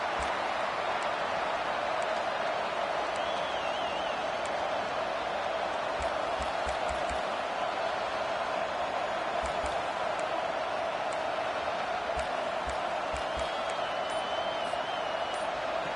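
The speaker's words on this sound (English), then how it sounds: "this crowd trying to help keep them there" A stadium crowd at an American football game keeps up a steady, dense roar throughout, with scattered thumps and faint whistles in the mix.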